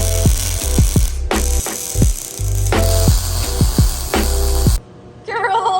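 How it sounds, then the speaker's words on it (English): Welding a steel railing onto the roof of a school bus: a loud, steady crackling buzz comes in bursts broken by short gaps, with clanks and knocks between them, ending in a quieter, warbling electrical hum. "we are welding the railing on"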